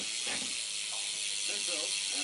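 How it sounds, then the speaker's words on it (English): Rear hub of a bicycle with a Colorado frame ticking as a ratchet and pawl freewheel spins, a quick steady run of close, bright clicks over soft background hiss. "I'll give you guys the hub sound"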